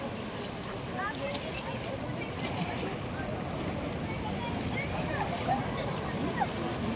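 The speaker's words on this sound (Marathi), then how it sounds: "आपण पाहताय मोठ्या प्रमाणात लाटा येऊन दगडाला धडकत आहेत तिकडे." Sea waves striking a big rock at Kanyakumari on the coast, a constant distant roar and wash of surf with wind buffeting the microphone, heard alone at moderate loudness.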